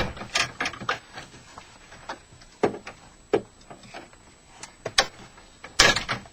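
Screwdriver prying a car door trim panel free on an early GM vehicle, a series of sharp plastic clicks and pops with scraping between them, close and uneven, ending in a louder snap.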